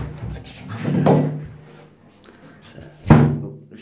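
A flat's door closes with a soft thud, preceded by some quieter handling noises.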